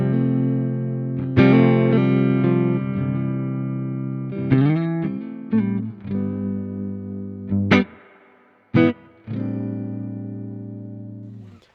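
Clean electric guitar played through a tube amplifier with no distortion, heard alone as sustained chords and single notes. A few brief pauses and gaps separate the phrases, with a sharp attack at each new strum.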